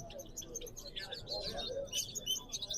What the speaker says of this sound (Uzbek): Bular anshu Maska, Neradushka shunga o'xshagan qushlar.